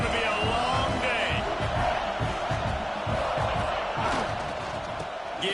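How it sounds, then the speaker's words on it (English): A loud stadium crowd at a football game roars and cheers throughout, with a commentator's voice running over the dense noise. "This crowd, full throat, splitting the eardrums and letting them know it's going to be a long day."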